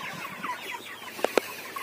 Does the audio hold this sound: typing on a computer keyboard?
no